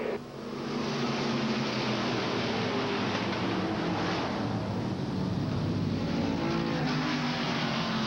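Race cars speed around an oval track in a continuous loud, dense engine roar that holds steady for several seconds and sounds full and distant, with no voices.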